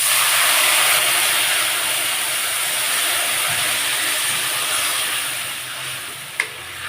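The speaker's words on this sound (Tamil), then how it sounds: "புளி வெள்ளத்தையும் விட்டாச்சு." Tamarind water hits a hot pan of roasted sesame mix for Iyer-style ellu pulikachal, giving a loud, close, continuous steam hiss and sizzle that slowly eases toward the end, with one sharp clink near the finish.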